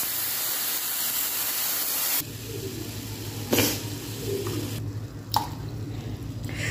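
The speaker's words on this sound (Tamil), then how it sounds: "3 டம்ளர் பால் ஊற்றுக்கிறேன்" Milk pouring into rice in a pot for pongal, a soft steady liquid hiss and trickle at close range, with a couple of short splashy bursts and a low hum underneath.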